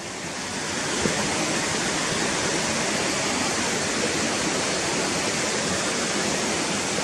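A river running over stones along its bank near Gunnerside, a constant close rushing wash of water that swells after the first second and holds steady and loud, with no voices.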